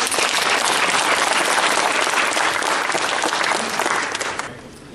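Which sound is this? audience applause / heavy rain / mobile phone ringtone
audience applause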